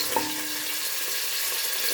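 Meat sizzles steadily in a hot pan for an Iraqi butternut squash soup, a close, even hiss of frying with a brief stir near the start and no talking.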